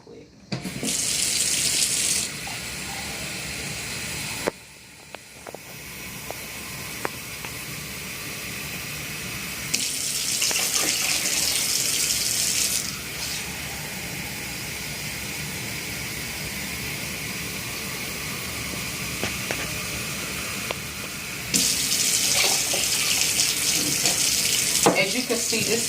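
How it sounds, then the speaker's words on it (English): A kitchen tap runs water into a bowl of seitan dough being rinsed and massaged, a close steady splashing stream that swells and eases as the flow changes. "I'm going to add a little more water to it real quick."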